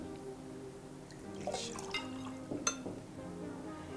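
Quiet trickle of liquid poured into a glass, with a few soft clinks and drips over a low background hum.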